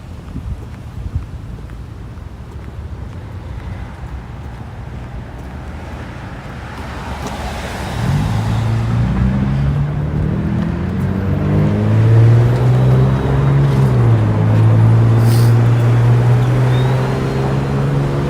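Car driving through city traffic in light snow, steady road rumble and wind noise that swells louder about halfway through as the engine note rises, with no talking.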